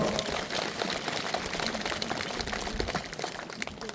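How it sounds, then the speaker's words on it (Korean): A church congregation applauds warmly to encourage families facing the college entrance exam, a dense, continuous patter of many hands, fairly faint and distant, lasting throughout with no talk. "뜨거운 격려의 박수 한번 부탁드리겠습니다"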